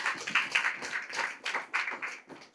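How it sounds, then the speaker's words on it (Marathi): A church congregation claps together during a sermon, a steady run of dense, overlapping handclaps that swells and dips at moderate volume without pause. "वाजवायच्या टाळ्या वाजवा."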